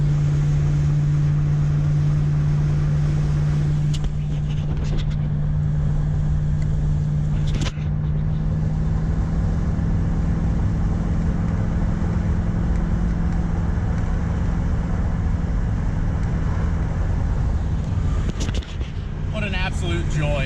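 Steady engine drone and road noise inside a 1966 Oldsmobile Toronado big block car cruising, a constant loud hum with a low tone throughout and a few brief clicks.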